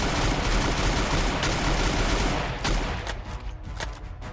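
Rapid automatic gunfire in the Free Fire battle game, a loud dense burst of shots for over two seconds that thins into a few separate cracks, with no voices.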